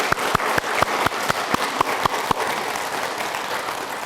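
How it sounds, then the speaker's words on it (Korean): Audience clapping at a Buddhist dharma talk, several loud near claps in a rhythmic beat at first, then dissolving into a softer, scattered round of applause. "박수는 쳐주시고요."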